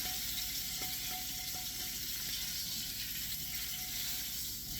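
Dry aged strip steak seared on its end in a pan, a steady, quiet hiss of sizzling fat with faint crackle, continuous and close.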